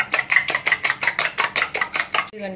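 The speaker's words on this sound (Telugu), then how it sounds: "బాగా బీట్ చేసిన దీన్ని బాగా ఇట్లా చేసినాక ఇట్లా బురుగు వచ్చేదాకా కలపాలి" Eggs being beaten briskly in a bowl for a spicy omelette, a quick run of about ten evenly spaced whisking strikes, close and crisp, ending with a short scrape.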